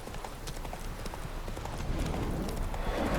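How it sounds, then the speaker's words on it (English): Roach, a horse in The Witcher 3, trots with a steady, rapid clip-clop of hooves, close and continuous, over a background of wind and ambient noise that grows slightly louder toward the end. "Spooking my horse."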